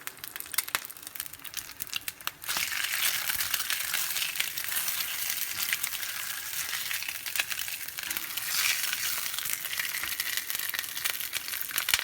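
Food fries in deep oil in a Matfer Bourgeat carbon steel pan, giving a dense, continuous crackling hiss that starts quieter and turns fuller after a couple of seconds, with no talking.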